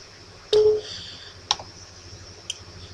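Three separate sharp clicks sound about a second apart, close and fairly crisp, like single keys pressed on a computer keyboard, with quiet between them.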